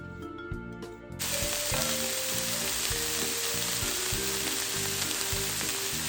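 Garlic hits a hot pan of buckwheat and meat in a Soviet-style home recipe, bursting into a loud, steady sizzle after a quiet first second and holding that crackling fry to the end.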